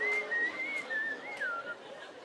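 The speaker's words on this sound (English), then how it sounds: "I can only fucking whistle anymore" A person whistles a wavering, breathy tune of short notes, close and fairly soft, with no other voices.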